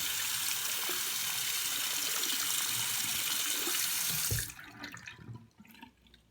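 Tap water runs steadily while a Braun Series 9 wet/dry electric shaver is rinsed under it, a loud continuous broadband rush for about four seconds before stopping abruptly, leaving faint drips and handling sounds.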